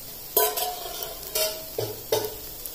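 Aloo tikki potato patties frying in oil in a pan, with a steady soft sizzle broken by several sharp clinks and scrapes of a utensil against the pan.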